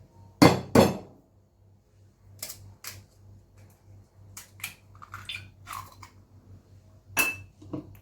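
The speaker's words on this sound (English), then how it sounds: "I'm gonna crack another egg." An egg cracked against a hard edge and opened into a bowl for French toast batter: two sharp taps up front, then soft drips and small clinks, with a steady low kitchen hum underneath.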